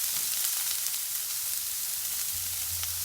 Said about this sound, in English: So you get a good sizzle when you put it in.